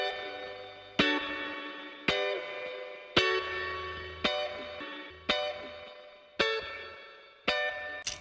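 Two interlocking guitar parts treated with compression and reverb, bright plucked chords struck roughly once a second with long ringing decays, played clean and alone.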